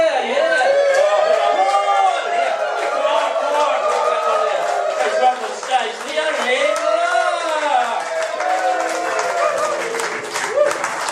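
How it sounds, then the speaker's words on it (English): An audience at a Gran In A Van show claps and cheers, with continuous applause mixed with rising and falling whoops and shouted yeahs from many voices, loud and sustained throughout. "Give us a bit of a clap and a yeah!"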